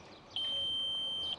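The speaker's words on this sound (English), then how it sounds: "which we've got this exclamation mark flashing on off, 3 beeps, means there's a problem with the brakes" An Audi A2 dashboard brake warning chime sounds as one clear, steady high-pitched electronic beep lasting about a second, close and distinct over a quiet cabin background.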